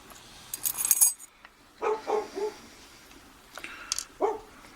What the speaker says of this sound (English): Dog's going nuts again.